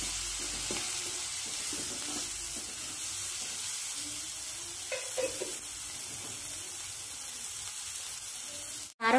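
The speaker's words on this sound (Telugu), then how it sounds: "కొంచెం కరివేపాకు కూడా వేసుకుంటాను" Curry leaves sizzling in hot oil in a pan for a dry prawn curry with eggs, a steady close frying crackle throughout with a few brief clatters and a sharp clank at the very end.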